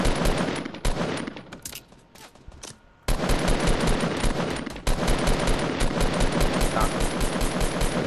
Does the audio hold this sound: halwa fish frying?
no